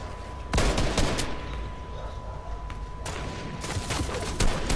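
Incoming gunfire aimed at the player in a shooter video game, heard as dense rapid bursts of shots over a constant busy background, with a steady tone running throughout and faint voices mixed in.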